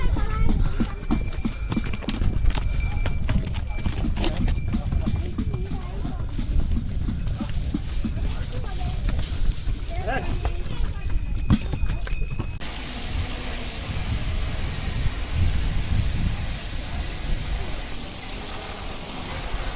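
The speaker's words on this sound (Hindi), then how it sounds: "ये देखिए, घोड़े भी आ रहे हैं।" Horses' hooves clip-clop steadily on a mountain path leading to a hilltop Hindu temple, loud and close at first and then fading, with people talking nearby.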